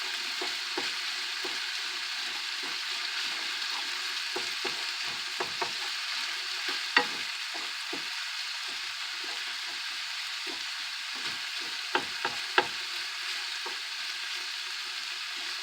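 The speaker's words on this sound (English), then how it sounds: "Get it sauteing really good." Ground meat for sloppy joes sizzles steadily in a pan, a close, even hiss with scattered soft pops and crackles throughout.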